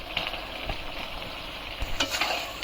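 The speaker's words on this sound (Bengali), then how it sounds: "এখন মশলাটা ভালোভাবে কষিয়ে" Mezbani spice mix, coriander powder and salt sautéed in a pan keep up a steady close sizzle, with scraping stirs and bursts of spattering as the spices are worked around.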